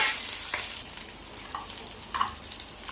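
Potatoes fry in ghee with cardamom, cinnamon, cloves, green chilli and cumin. A steady sizzling hiss carries a few clinks and scrapes of stirring, with no talk.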